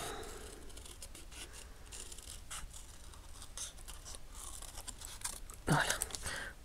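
Scissors snip through paper to cut out a sunglasses-shaped scrapbook embellishment, a quiet close series of crisp cuts with a louder rustle near the end.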